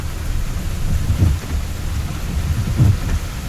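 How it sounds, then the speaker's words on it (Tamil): Heavy rain pours down in Nagercoil in a steady wash, with low rumbling gusts rolling through. "அப்படி ஒரு மழை பெய்யுது"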